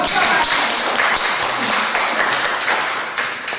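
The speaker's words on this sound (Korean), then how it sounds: "아이고 박수 한번 칩시다" A church congregation claps together at a Sunday worship service, a dense steady wash of applause filling the room throughout, with a voice faintly audible beneath it.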